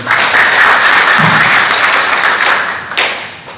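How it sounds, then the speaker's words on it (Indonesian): An audience at a school evaluation meeting applauding, a loud, dense round of clapping that stays steady and then tapers off. "kita tepuk tangan untuk kita semua"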